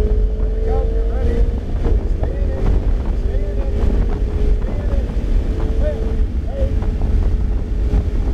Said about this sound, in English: Now turn. Now give it some gas.